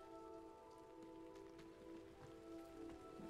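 Steady rain falling in the video game Hogwarts Legacy, a soft, even patter throughout under a faint tonal hum of game ambience, with no voices.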